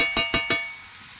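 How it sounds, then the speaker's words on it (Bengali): Cabbage curry with prawns being stirred in a pan: three quick, evenly spaced scraping strokes of a spoon against the pan, close up, then a faint low simmer. "এরকম করে একটু করে নেড়ে দেবে।"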